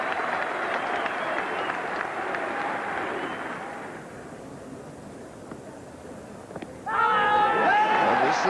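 A cricket crowd at a 1977 Gillette Cup Final between Middlesex and Glamorgan applauds a boundary, broad clapping that fades to a hush before a fresh burst of applause and cheering near the end.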